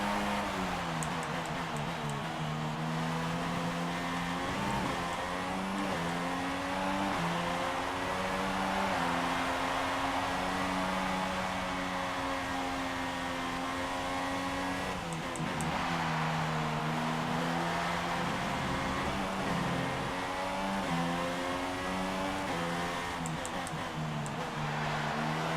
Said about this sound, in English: We can stay in that beautiful slipstream of Perez there.